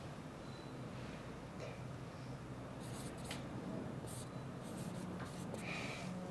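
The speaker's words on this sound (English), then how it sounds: "I'm going to write this very lazily" Chalk or marker scratches out an equation on a classroom board in a London school, in quiet strokes and taps against a faint background hush.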